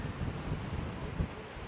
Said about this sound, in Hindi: लग ऐसे रहा है जैसे तूफ़ान आने वाला है, इतनी तेज़ हवा चल रही है।